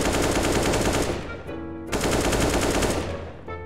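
An AK rifle fires sustained full-auto sprays in CS:GO, loud and close. Two rapid bursts are split by a short pause, with no talk.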